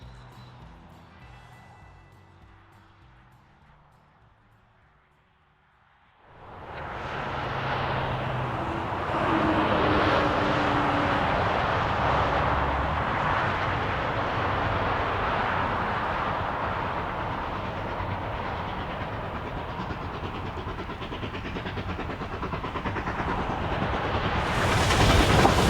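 Coal-fired steam locomotive 481 on the Durango and Silverton line opening its throttle in winter, a quiet lull giving way to a loud, sustained roaring rush of exhaust and rolling train noise that builds and holds.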